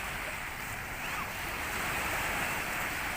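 Waves wash onto a quiet Dubai beach in a steady, soft surf roar with light wind noise, faint and continuous with no voices.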